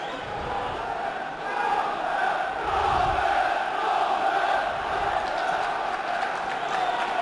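A football stadium crowd at a Port Vale versus Doncaster Rovers match in 2006 roars in a broad, sustained swell of cheering that rises and holds, with faint commentary underneath.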